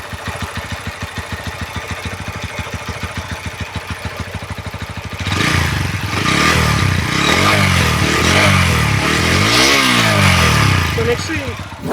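A Bajaj Pulsar N125 motorcycle with an under-belly exhaust, 2025 model, idling with a steady low thump, then revved several times in loud rising and falling surges close by.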